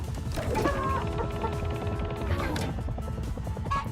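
Chickens cluck in a helicopter arcade video game, a short burst of game fowl sounds over mechanical clicking and whirring effects, moderately quiet.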